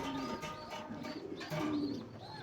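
A pair of yellow Sensi running pigeons on a farm coo softly in repeated low, throaty phrases as they are stirred by hand, close by with a faint background hum.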